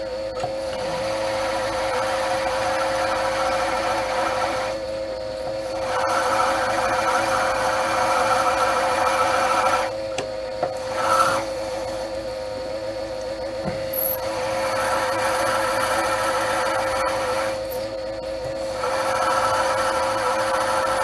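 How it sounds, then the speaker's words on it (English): A drill whirs steadily into brass with a loud, close, mid-pitched grinding whine, pausing briefly a few times. No one speaks. "So the first job is to drill and tap it for 3BA."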